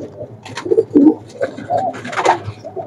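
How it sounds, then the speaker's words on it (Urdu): Saharanpuri pigeons coo in a loft, several soft overlapping throaty coos in uneven bursts, close and fairly clear with no talk. "یہ سب کے سب چیمپئن کے گھر کے کبوتر ہیں"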